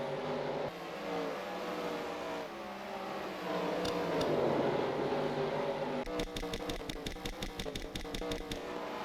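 Simulated stock car engines in NASCAR Racing 2003 at Oxford Plains, a loud sustained whine rising and falling through gear shifts while passing lapped cars, ending in a rapid stuttering rev limiter.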